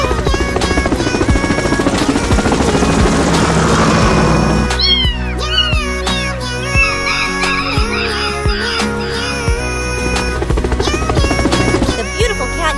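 Helicopter whirring in flight, a dense buzzing drone for the first few seconds, with repeated cat meows rising over it throughout.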